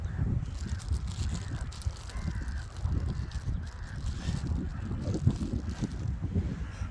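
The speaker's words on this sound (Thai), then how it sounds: "ลมแรงมาก" Strong wind buffets an outdoor microphone in a steady low roar with gusty rumbling and no talk.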